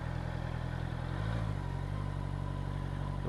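A 2024 Honda CBR650R with E-Clutch runs steadily nearby, a low mid-pitched engine drone that lifts slightly in tone partway through, heard alone without talk.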